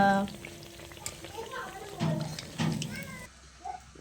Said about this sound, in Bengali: দুটো দেওয়া হয়েছে তেলের মধ্যে দিয়ে যে ভাজা হচ্ছে